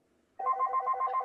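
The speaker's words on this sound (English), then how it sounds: "That might be the phone." A telephone rings during a town board of selectmen meeting in Whitman, a clear electronic warbling ring that starts abruptly after a quiet moment and repeats in rapid pulses.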